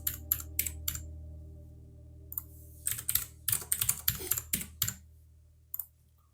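Keys tapped on a computer keyboard while entering an admin password for a firewall setup, a few quick isolated clicks, a pause, then a denser flurry of close, crisp keystrokes.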